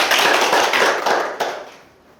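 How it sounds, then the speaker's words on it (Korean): An audience claps to welcome a speaker at an environmental talk on marine ecosystem change, a dense burst of applause that holds steady and then fades out over about two seconds, with no voices over it. "자, 박수로 환영해 주세요."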